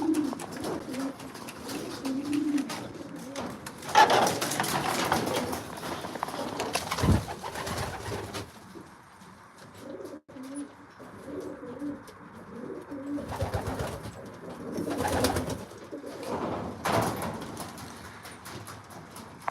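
Racing pigeons coo in their loft, soft rolling calls coming in bursts close by with quiet gaps between them and occasional faint chirps and shuffling.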